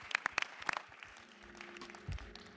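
Scattered, fairly sparse clapping from a conference audience applauding panelists at an HCI dialogue session, a few sharp claps at first then thinning into light, soft patter with low background rumble.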